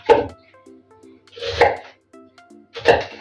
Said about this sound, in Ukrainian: а сама тим часом буду нарізати цибулю